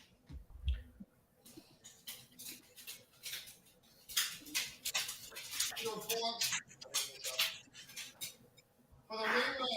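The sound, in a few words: dog scratching to get in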